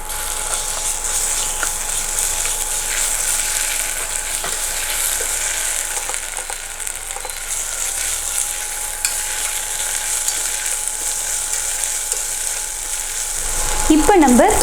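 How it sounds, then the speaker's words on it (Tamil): Onion sautéing in a pan with ginger garlic paste for a foxtail millet vegetable biryani, giving a steady, close sizzle throughout with a few scraping stirs and a louder burst of stirring at the end. "ஆனியன் நல்லா வதங்கிட்டு இருக்கு. இந்த சமயத்தில் நம்ம இஞ்சி பூண்டு விழுது வந்து சேர்த்துக்கலாம்."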